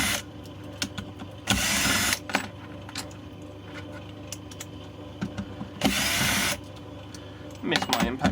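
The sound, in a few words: removing screws from electric bicycle battery plate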